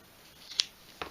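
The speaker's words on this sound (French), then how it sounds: "Bien sûr, bon, il faut les ciseaux aussi." Scissors make two quick crisp snips through leather being trimmed for a car seat, close and dry against near silence.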